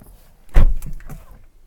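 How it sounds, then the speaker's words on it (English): A door on a 2018 BMW 230i coupe with keyless entry is opened, giving a single short thunk with a faint mechanical click trailing after it, close and fairly loud with no talk. "so I just walk up to the car, open up the door, and it is unlocked for me."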